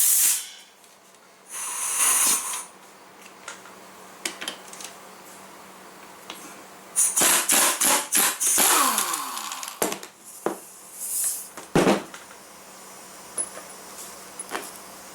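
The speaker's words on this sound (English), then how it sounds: "First thing I'm going to do is take that pulley off." An air impact tool buzzes in short bursts to loosen the pulley on a Sears SS14 Suburban starter generator, with loud ratcheting rattles and metallic clinks between quieter pauses, close and without talking.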